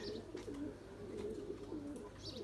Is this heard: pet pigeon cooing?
yes